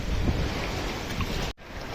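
Water waves wash against rocks in a steady loud rushing wash with wind noise, briefly cut off near the end before resuming.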